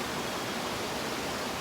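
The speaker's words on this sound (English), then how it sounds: "is right next to a water stream, and the sound of the water running, it's literally like white noise" Steady broadband rush of a water stream running right beside a room in Rishikesh, a constant close hiss like white noise, loud and unbroken with no voices.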